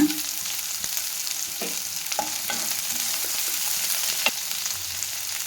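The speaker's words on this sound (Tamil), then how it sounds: "இப்போ பாதி வெங்காயத்தை இதில் போட்டுக்கலாங்க சும்மா வதக்கிறதுக்கு" Sliced onions sautéing in a pan for brinjal biryani, a steady soft sizzle with occasional spatula scrapes and taps against the pan, close and without talk.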